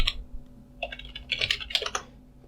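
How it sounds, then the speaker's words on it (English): Keystrokes on a computer keyboard, a quiet start followed by a quick irregular burst of clicks over a steady low hum, close and moderately loud with no talking. "If you go and type here in your Google search bar"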